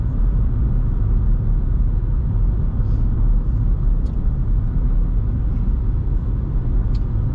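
A car drives along a road in the Tampere area of Finland through a roadworks zone as a bus passes, giving a loud, steady low engine and tyre rumble throughout with a few faint high ticks.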